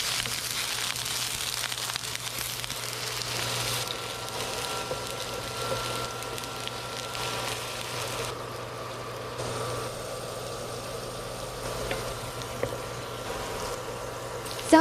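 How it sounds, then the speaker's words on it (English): Potatoes frying in cooking oil in a pan give a steady, even sizzle with a constant low hum underneath, continuing without pause at moderate loudness. "In a separate pan, add cooking oil. Add potatoes, then fry."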